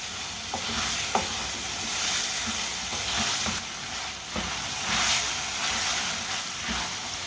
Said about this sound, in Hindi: ऐसे ही चम्मच चलाते हुए ऐसे भूनना तेज़ आंच पर